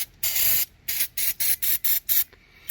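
Aerosol can of brake cleaner running low, one longer hiss followed by six quick sputtering bursts, sharp and close with no speech.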